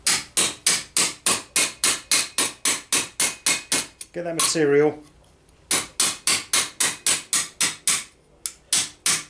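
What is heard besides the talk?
hammering steel gauntlet backplate on a stake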